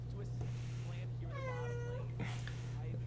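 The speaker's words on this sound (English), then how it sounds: "Don't mind the cat in the background. She's just looking at a wall and meowing." A house cat meows in the background, one drawn-out, wavering meow rising over a steady electrical hum, with faint clicks and rustles around it.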